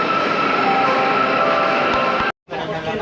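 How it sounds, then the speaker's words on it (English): Steady rumble of a crowded passenger train in motion, broadband and continuous with a brief drop to near silence before the noise resumes, on a busy service to Inca, Mallorca. "we managed to get on the train"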